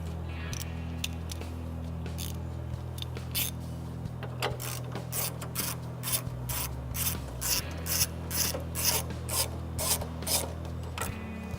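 A ratchet wrench with a 10mm socket loosens the headlight bolts on a GMC Sierra, giving a steady run of rhythmic ratcheting clicks over a low mechanical hum, close and unaccompanied by speech.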